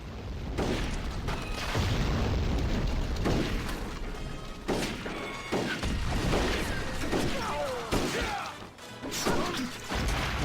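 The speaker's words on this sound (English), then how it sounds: "And now these cannons are going to blow us up as we're trying to set charges." Repeated heavy blasts and crashes from cannons in the video game Red Dead Revolver, booming explosions recurring every second or two amid clattering mechanical noise.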